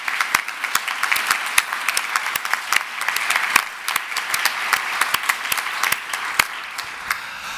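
A modest meeting audience applauds the contributors of breakout sessions at a conference on cultural heritage collecting, with sharp individual claps standing out from a thin, steady patter that carries on to the end.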